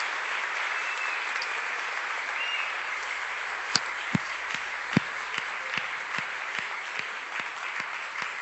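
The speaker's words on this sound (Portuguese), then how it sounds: "Podemos aplaudir o Senhor?" A congregation applauds during a church service: a soft, steady wash of clapping fills the space, and partway through a series of sharp, separate claps begins to stand out in a loose, regular rhythm.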